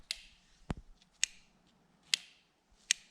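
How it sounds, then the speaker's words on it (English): An automotive relay clicks as its switch turns on, heard very close in a quiet setting: a few sharp, isolated clicks spaced irregularly over a few seconds, with near silence between them. "the camera will come really close to this relay and you'll hear it click"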